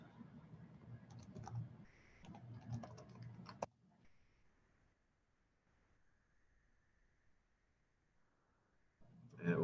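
Close, quiet keystrokes on a computer keyboard, typed in two short bursts of rapid clicks, as a username and password are entered for a Hikvision IP camera. A quiet pause follows.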